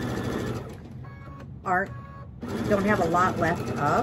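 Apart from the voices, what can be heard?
sewing machine stitching a mug rug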